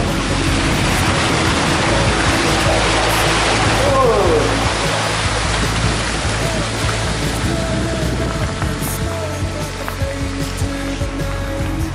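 A mountain bike rolls through water on a forest trail in Lunigiana, with a continuous loud splashing, rushing wash throughout and a rider's voice faintly beneath.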